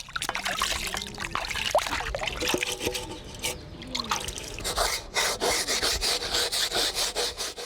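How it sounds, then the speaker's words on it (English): Dishes are scrubbed with dirt, giving close, gritty rubbing strokes that turn into a steady rhythmic scraping toward the end. "He's washing his dishes with dirt."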